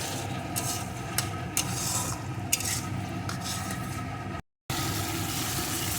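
Spices with chili powder, turmeric and salt sautéed in a pan for a fish curry, with a low sizzle and occasional light scraping of a utensil, a brief dropout near the end.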